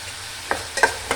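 Pepper, fenugreek and vegetables sautéing in a pan, with a few short, sharp scrapes of a spoon across the pan over a low, steady sizzle.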